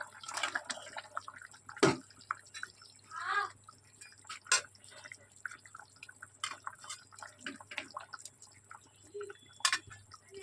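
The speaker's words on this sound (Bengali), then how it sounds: "মাছের জলটা ফুটে গেছে" Water boils in a pot for a light tilapia fish curry broth, giving faint, scattered bubbling pops and drips at an uneven pace against a quiet kitchen hum.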